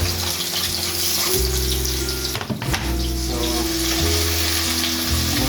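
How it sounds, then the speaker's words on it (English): Aromatics sauté in a non-stick pot before callaloo goes in, giving a steady, close, loud sizzle with a low hum underneath and a brief clattering stir midway. "Allow this to saute before I add my calalo."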